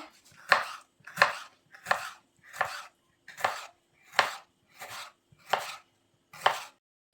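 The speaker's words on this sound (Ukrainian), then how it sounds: "Так перчик ріжемо. Так, перчик смужками." A knife chops bell pepper into strips on a cutting board, about nine crisp, evenly spaced cuts, close and clear with no talking.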